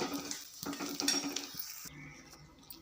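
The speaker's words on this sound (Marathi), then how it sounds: "मंदाचेवर छान असा गरा भाजून घ्यायचा" Coarse grain being dry-roasted on low flame for sheera over a clay stove, with soft scraping stirs and light clinks of a spoon against the pan, fairly quiet and close, easing off toward the end.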